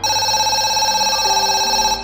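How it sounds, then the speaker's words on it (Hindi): Old public telephone booth rings with a bright, steady electronic tone, loud and close, sustained for about two seconds without pause, a ringing sound effect. "एक पुराना टेलीफोन बूथ खड़ा था जो हर रात अपने आप बजने लगता था"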